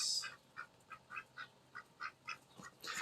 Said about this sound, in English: Quack, quack, ducks.